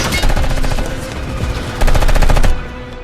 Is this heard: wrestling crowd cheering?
no